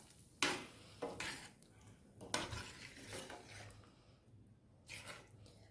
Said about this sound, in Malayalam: നന്നായിട്ട് വീണ്ടും ഒന്നുകൂടെ ഇളക്കി കൊടുക്കാം.